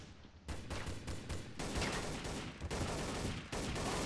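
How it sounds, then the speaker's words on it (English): Dense gunfire fills a Counter-Strike: Source firefight on hard difficulty, with overlapping rifle bursts crackling nonstop after a brief lull, loud and close with a few sharper volleys along the way. "Immediately a big firefight in the front"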